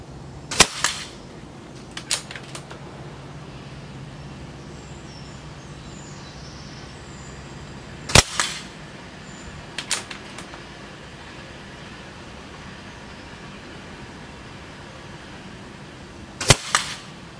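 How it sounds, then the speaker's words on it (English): A 12 ft-lb .22 air rifle fires Air Arms Diablo pellets outdoors at a 30-yard target: several sharp, separate cracks spaced seconds apart, each followed by brief faint knocks, over a quiet background hiss. "So this is, 30 yards with a 12-foot pound gun."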